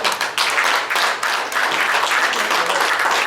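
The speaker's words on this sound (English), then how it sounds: "Give them a big round of applause, everybody." A saloon audience at the Crystal Palace Saloon in Ogallala, Nebraska, breaks into steady applause, a dense wash of many hands clapping, fairly close and continuous, with faint voices beneath.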